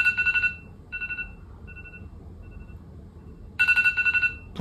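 An iPhone ringtone rings loudly in short bursts of bright repeating chime tones, fading to faint echoes between phrases before the melody returns at full volume near the end.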